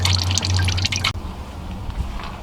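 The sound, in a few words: radiator coolant draining and dripping into a container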